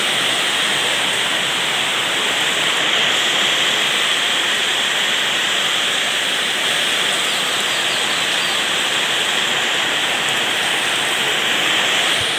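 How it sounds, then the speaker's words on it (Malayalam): Heavy evening rain with wind pours down steadily, a dense, loud, unbroken hiss of water drumming on surfaces that holds constant throughout, with no one speaking. "ഒടുക്കത്തെ മഴയാണ്"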